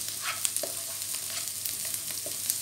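Garlic sautéing in a pan as part of a Filipino bistek bangus dish, making a soft, steady sizzle with light scattered clicks of stirring. No voices.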